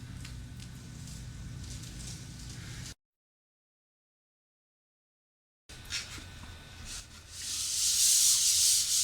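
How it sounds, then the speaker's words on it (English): Steady rubbing scratch of 180-grit sandpaper lightly sanding a dried plaster fireplace surface, close and continuous, broken by a silent gap, then resuming louder and brighter. "we're just going to lightly sand it. We're not going to get too carried away on the sanding"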